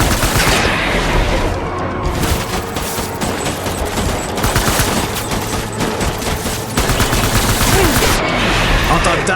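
Sustained assault rifle fire and explosions in the video game Death Stranding, loud and dense bursts of gunshots filling most of the stretch, with brief lulls between volleys.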